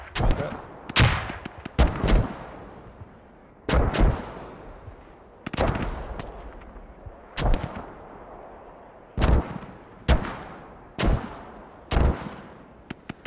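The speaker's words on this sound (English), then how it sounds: "You hear the Russians mortar fob is really close to base" Mortar rounds fire in a military video game, a series of about a dozen heavy booming thuds at irregular intervals, each with a sharp crack and a long rumbling decay, loud and fairly close.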